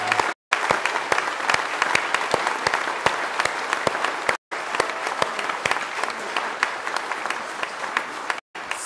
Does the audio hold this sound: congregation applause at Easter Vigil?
yes